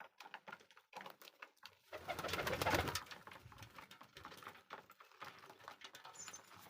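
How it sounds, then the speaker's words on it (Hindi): Pedigree pigeons coo and rustle close by, with a burst of fluttering wings in the middle amid soft scattered patter. "हमारे आसमानी कबूतर हैं, वीआईपी नस्लदार।"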